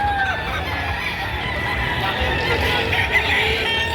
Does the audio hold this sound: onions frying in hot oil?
no